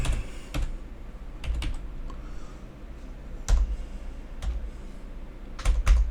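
Keys clatter on a computer keyboard as a search term is typed into a box, in quick irregular bursts of clicks separated by brief pauses, close and clear with no talking.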